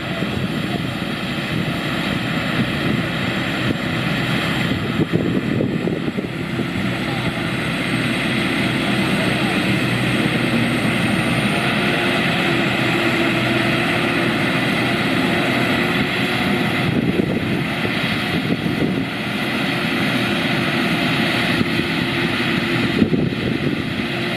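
A rice combine harvester runs steadily through a dry-season paddy harvest near a temple, its engine droning loud and continuous with a constant mechanical hum and threshing rattle throughout.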